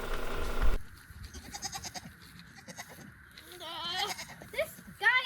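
A pet goat on an off-grid summer homestead bleats several times in short, wavering calls near the end. A person talks over it at first, along with rustling and footsteps outdoors.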